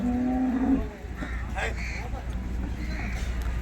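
A dairy cow moos once, loud and close, at a busy livestock market in Loni where high-yield milking cows are sold, with steady crowd chatter and someone talking over the market noise.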